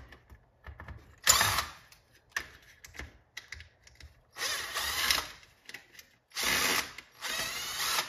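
Parts of an arcade power brick are unscrewed with a power driver, several short whirring bursts at close range between quieter clicks and handling noises.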